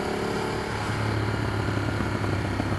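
Ducati Streetfighter 848 motorcycle engine running steadily with a dense, throaty mechanical drone and low rumble, close and fairly loud throughout, with no talking.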